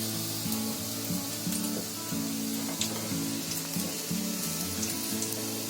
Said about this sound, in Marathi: ते कसं चरचर चरचर होते बघ